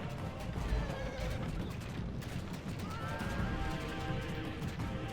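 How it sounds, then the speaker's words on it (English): In the battle game Rome Total War, horse archers are cut down by archers in siege towers, with repeated horse whinnies and neighs, clattering hooves and scattered combat crashes filling a busy, continuous soundscape. "the ambient noises of the horse archers being fucking killed by by archers in the towers"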